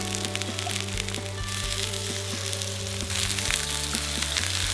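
Tteok galbi patties pan-fry over medium heat, a steady close sizzle of spitting fat with a few small crackles, continuous for the whole stretch with no voices.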